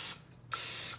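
Cooking spray hisses from a can onto a dash maker in two short bursts separated by a brief pause, close and crisp, with no talking.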